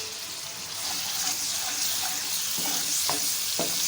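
Chopped ginger and green chillies sizzle in hot oil for masala bhindi, a steady close frying hiss with a few stirring clinks.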